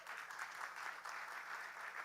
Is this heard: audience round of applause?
yes